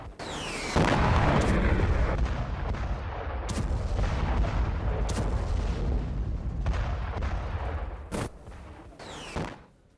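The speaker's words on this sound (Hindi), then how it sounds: "रूस ने यूक्रेनी शहर पर फैब 1500 बॉम्ब से ये हमला किया है" Aftermath of a Russian FAB-1500 bomb strike on a Ukrainian city, heard as a loud, sustained roaring rumble with sharp cracking bursts spread across the scene.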